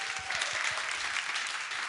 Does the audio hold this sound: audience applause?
yes